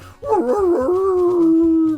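A voice imitates a dog howling in a horror short film: one close, loud, drawn-out howl that bends in pitch and then holds steady for nearly two seconds.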